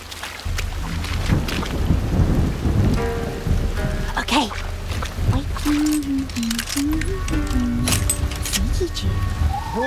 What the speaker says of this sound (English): I do not mind the rain.